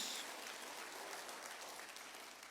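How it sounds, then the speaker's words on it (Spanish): A church congregation applauding during a service, a steady wash of faint clapping heard from a distance with no talking over it. "Ahora sí, denle un aplauso al Rey de Reyes."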